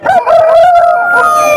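A rooster at a village hen market near Hindiginala lets out a single loud, close crow lasting over a second, with a rising start and a long wavering held note, clear above faint background noise.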